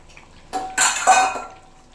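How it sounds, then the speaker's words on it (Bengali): Mutton and fried potato curry being stirred in a pan, with a few close scraping, clattering strokes of a utensil against the metal over about a second, preceded by faint quiet. "ভালোভাবে নাড়াচাড়া দিয়ে নেব।"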